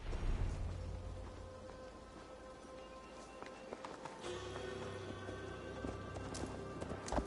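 Steady clip-clop of horse hooves at a running pace while riding through a forest in Assassin's Creed Valhalla, a rhythmic, moderately faint galloping over low game ambience, without speech.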